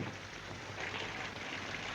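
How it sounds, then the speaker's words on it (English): Rain falls steadily in an old film scene where water leaks through a roof, a soft continuous patter and hiss heard alone at low level. "Boss, the rain's coming in."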